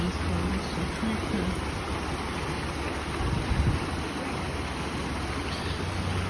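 A small town creek flows into a river, giving a steady broadband rush of running water that holds evenly throughout, close and moderately loud, with some wind buffeting on the microphone.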